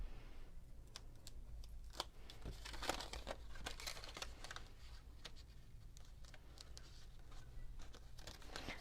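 A small piece of tear-and-tape is handled up close for a paper craft star, giving faint, steady crinkling and crisp little ticks and snaps against quiet room hum.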